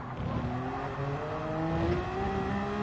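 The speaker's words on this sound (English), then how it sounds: "Now braking for the downhill turn 4" A race car in a sim racing game slows for a downhill turn, its engine note steady and then dropping through gears, with a faint tire hiss and no voices.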